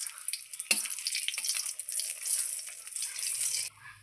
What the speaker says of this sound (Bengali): আমি শুকনো লঙ্কাটা সবার প্রথমে ভেজে নেব।